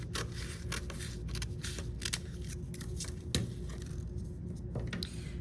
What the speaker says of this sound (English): I'm actually going to cut the side edge with scissors so we have a nice clean edge